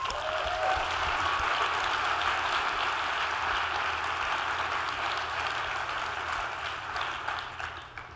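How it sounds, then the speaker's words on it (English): A large conference audience at DrupalCon Seattle 2019 applauds the Drupal 8.7 team with steady, dense clapping that holds throughout and eases slightly near the end. "Like, this team deserves a big round of applause."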